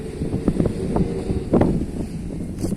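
Strong wind buffeting the microphone while fishing at an estuary, a continuous rough rumble with gusty swells and a few knocks, close and fairly loud, no talking.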